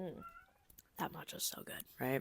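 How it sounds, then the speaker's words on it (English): A cat meows clearly near the start, with people talking close by through the rest. "if you guys hear meowing, it's my cat"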